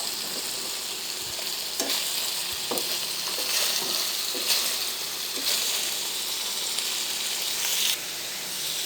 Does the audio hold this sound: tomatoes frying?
yes